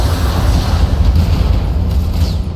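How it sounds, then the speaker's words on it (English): Ammo explosions in the mech combat video game BattleTech, a dense rolling rumble of deep booms with crackling bursts, loud and continuous for a few seconds without speech. "Ammo explosions."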